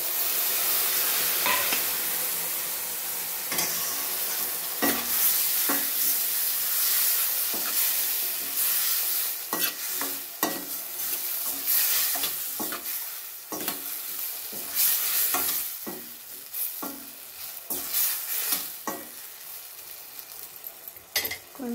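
Tomatoes frying with green chillies, onion, ginger-garlic paste, curry leaves, cumin and mustard seeds, a constant loud sizzle with repeated scraping stirs of a spatula in the pan.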